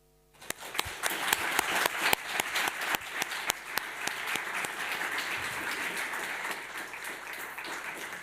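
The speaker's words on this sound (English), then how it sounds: "I hope that you can hear that rapturous round of applause there" A rapturous round of applause breaks out at a workers' rights conference, starting with loud distinct claps that build into a dense, sustained ovation from a large audience.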